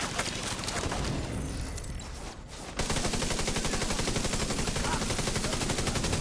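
Rapid automatic gunfire from an automated turret in a video game, a dense continuous stream of shots that briefly dips then resumes steadily louder, with no talk over it.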